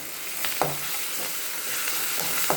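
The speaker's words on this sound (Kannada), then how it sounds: "ನಾನು ಇಲ್ಲಿ ಸ್ವಲ್ಪ ಅಲ್ಲಂ ಬೆಳ್ಳುಳ್ಳಿ ಪೇಸ್ಟ್ ಹಾಕ್ತಾ ಇದ್ದೀನಿ" Ginger garlic paste fries in hot oil for egg fried rice, giving a close, steady sizzle with a few brief scraping stirs and no voices.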